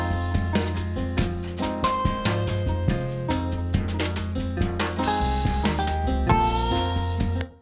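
Dense music with punchy beats and layered tones, bitcrushed to 18 kHz 12-bit, slightly gritty and band-limited, playing continuously before cutting off abruptly.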